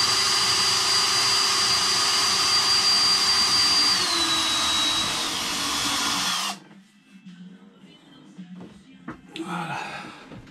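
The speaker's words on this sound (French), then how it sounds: "Et là maintenant c'est le pré-perçage des trous de fixation" A power drill bores pilot holes for mounting a water tank level sensor, running steady and loud for about six seconds before stopping, followed by quieter handling noises.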